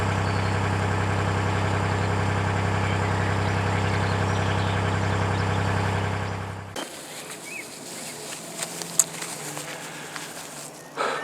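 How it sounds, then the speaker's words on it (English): A narrowboat's engine idles with a steady, loud low throb for about six seconds, then stops, leaving quiet background with a few faint knocks. "That's why I had to switch the engine on."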